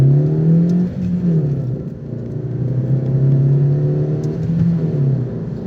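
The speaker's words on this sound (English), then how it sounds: "acceleration isn't awful" A Vauxhall Meriva family car accelerating, heard from inside as a loud, steady engine drone that rises in pitch, dips briefly as the gear changes, then climbs again under continuous road rumble.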